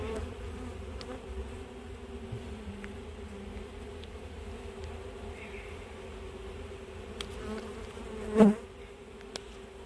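Honey bees buzzing around an opened hive at an apiary in the rain, a constant droning hum close by, with a brief louder clunk near the end.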